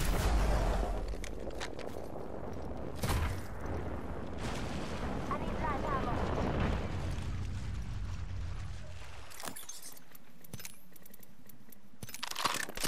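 Gunfire sounds in a battle-royale video game during a duo match, repeated loud cracks and bursts over dense, busy game noise, with a player talking over the action.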